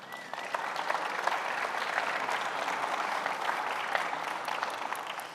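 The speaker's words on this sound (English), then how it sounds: "Not even one applause for that?" An audience at a talk on faith, society and politics applauds steadily for several seconds, a dense, even wash of many hands clapping at moderate loudness with no voices over it.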